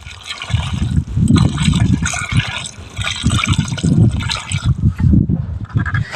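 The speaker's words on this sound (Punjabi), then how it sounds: "ਮਿੱਠਾ ਪਾ ਰਹੇ ਆਪਾਂ ਪਾਣੀ" Water splashes and gushes steadily onto the ground around a guava plant in uneven bursts, fairly close and loud, with no talking.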